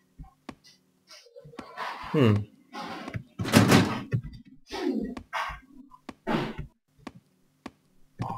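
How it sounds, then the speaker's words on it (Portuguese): A door opens and closes indoors in a few short knocks and thuds, mixed in with close, frequent conversation. "Ah, é, a porta."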